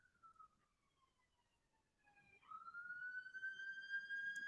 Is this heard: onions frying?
no